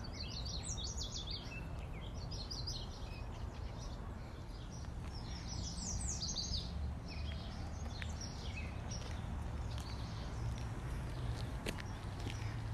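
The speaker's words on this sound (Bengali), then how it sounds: "নিশ্চয়ই পাখির ডাক শুনতে পেয়েছেন।" Birds call and chirp in a park along the Meewasin Trail at Rotary Park, with bright repeated twittering phrases in clusters over a steady low outdoor rumble, moderately close and with no talking.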